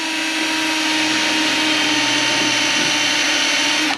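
A drill bores a hole, likely into steel while a Harbor Freight 20 ton press is modified, running as a steady, loud, continuous whine for the whole span with no speech and cutting off right at the end.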